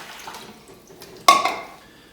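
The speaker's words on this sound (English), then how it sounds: "So I'm just going to go ahead and add 2 cups of water" Two cups of water are poured into a bowl to start a simple sourdough bread dough. The pour comes as a single short splash that fades within about half a second, close and clear in an otherwise quiet kitchen.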